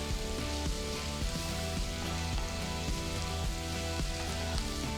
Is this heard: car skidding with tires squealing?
no